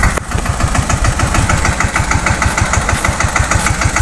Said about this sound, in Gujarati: આ ટ્રેક્ટર આવી ગયું છે.